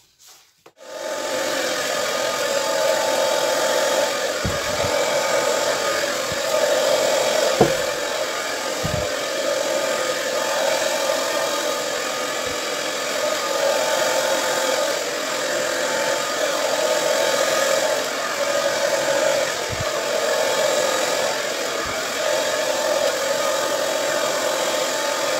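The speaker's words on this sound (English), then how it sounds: "So let's just get the hairdryer." A hair dryer starts up abruptly during an acrylic paint pour and runs steadily with a constant whirring hum, punctuated by a few faint knocks and rubbing sounds.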